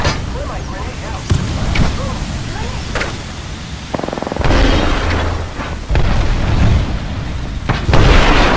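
Arc Star grenade blasts in the video game Apex Legends, several booming bursts and crackling pops spread over the clip amid dense game noise, with voice lines heard.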